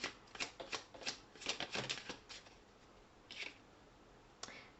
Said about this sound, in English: So I want to pull one card here for, let's see what tarot has to say for you.